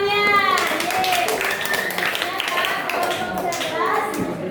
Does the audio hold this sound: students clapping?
yes